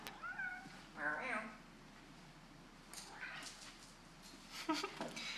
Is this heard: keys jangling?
no